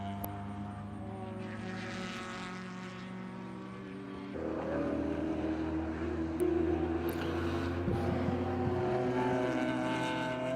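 Race cars at a Watkins Glen endurance race, including a Corvette and a BMW, their engines droning steadily at a distance, rising and shifting in pitch as cars pass, with no talking.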